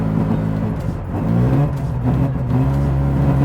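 Rough-running Mazda RX-7 engine while driving, a steady low drone with surging, wavering pitch and uneven dips, close and alone without speech.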